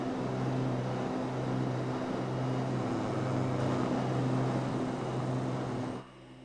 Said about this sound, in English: I'm just trying to turn the engine noise down a bit